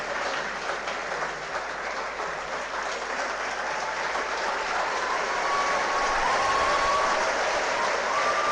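A seminar audience gives sustained, dense applause welcoming a geography lecturer being honoured, a steady wash of many hands clapping that swells slightly toward the end, with no talk over it.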